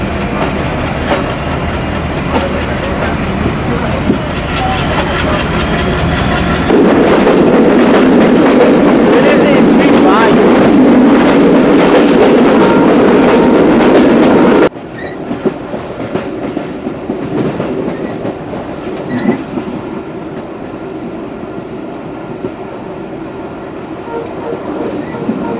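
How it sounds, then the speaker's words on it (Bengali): Passenger train running between Khulna and Jashore after pulling out of Daulatpur station, a loud steady rumble with rhythmic clickety-clack of the wheels on the rails, heard from inside the carriage, swelling louder midway then easing. "আমাদের ট্রেন এখন দৌলতপুর রেলওয়ে স্টেশন থেকে ছেড়ে দিল"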